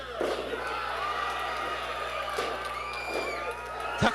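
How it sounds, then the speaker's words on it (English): Roaring crowd at a St. Louis indie wrestling show erupting after a frog splash pin attempt, loud continuous cheering and whooping with sharp yells breaking through and commentary voices beneath. "The crowd is in a fury right now."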